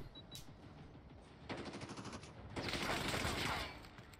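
Gunfire in the mobile shooter Call of Duty Mobile during a Halloween event match, with rapid automatic bursts that build to a long loud sustained volley, near and dense, over faint background game sound.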